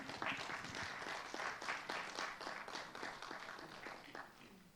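An audience applauds a candidate at a lawyers' vice-presidential debate, with dense, lively clapping that swells and pulses for several seconds, fairly close and full.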